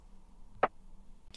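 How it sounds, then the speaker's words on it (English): A soft lo-fi snare sample from a Logic Pro X beat gives one short, muted hit, with a faint second transient near the end over a quiet hiss. "And then the snare, the B4 sounds like this."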